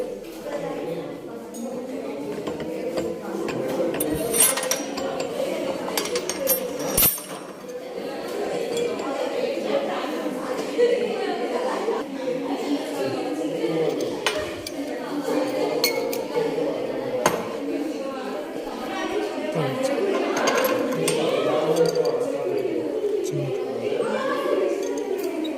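A probe tip is fitted and twisted tight on a probe sonicator, with faint metallic clinks and light taps over a quiet room hum while a person speaks.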